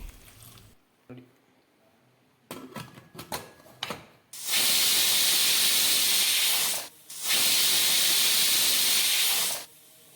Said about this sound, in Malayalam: ചക്ക ഒരു കുക്കറിലേക്കിട്ട് അരക്കപ്പ് വെള്ളവും ചേർത്ത് 2 വിസിൽ വരുന്നവരെ വേവിക്കാനായി വയ്ക്കാം